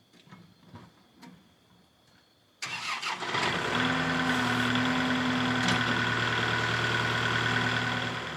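After some quiet background knocks, a tractor engine cranks and catches, then settles into a steady, loud, close idle with a droning hum that runs to the end.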